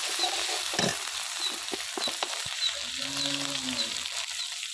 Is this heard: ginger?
yes